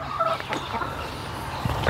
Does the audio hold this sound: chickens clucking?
yes